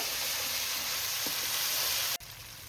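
Spice paste with turmeric and salt frying in a pan for a Bengali cabbage ghonto, a loud continuous close sizzle with a soft stir partway through, cutting off abruptly near the end.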